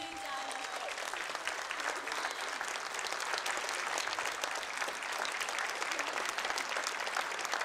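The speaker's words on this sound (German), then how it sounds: "Ein Applaus, meine Damen und Herren." Audience in a sports arena applauds a young man at a live music TV show, a dense, even wash of clapping that carries on steadily throughout.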